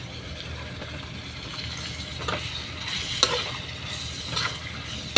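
Okra bhindi bhaji with green chillies and tomato frying steadily in a pan, a continuous close sizzle with a few scraping stirs of a spatula and no talk.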